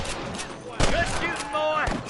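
Repeated gunfire crackles through a cowboy shootout video game, bursts of shots layered over one another, with voices shouting over the fight.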